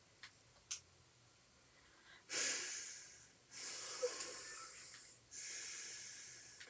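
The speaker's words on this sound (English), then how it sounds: "Intense breathing noises." Intense breathing noises play in a Fortnite match: a few short puffs, then three long, loud, hissing breaths spaced about a second apart, heard alone.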